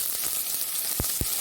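Oil sizzles steadily as chopped spring onions sauté, a continuous hiss with a couple of soft clicks of a utensil against the pan.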